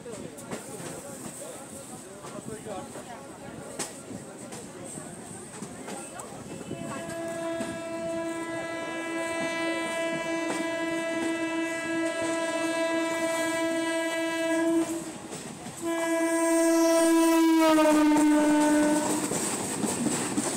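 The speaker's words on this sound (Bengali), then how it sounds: "ট্রেনটি শিয়ালদহ কৃষ্ণনগর লোকাল।" A Sealdah–Krishnanagar local train runs near Khardah station in West Bengal, its rumbling wheels and carriages steady throughout, with a long, loud horn blast sounding through the second half, briefly breaking off, then blaring again close by.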